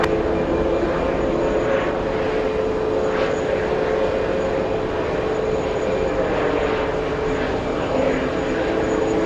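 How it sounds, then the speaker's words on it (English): Etihad Boeing 787 airliner on final approach at JFK, a steady broadband engine roar with a constant hum, sustained and fairly loud throughout with no talk. "Etihad is on final approach."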